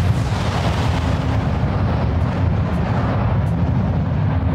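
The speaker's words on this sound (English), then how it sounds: "This is the explosion track," A cinematic blast impact sound effect built for a concussion-style explosion: a loud, deep, rumbling roar that holds heavy low-end power for several seconds before cutting off abruptly.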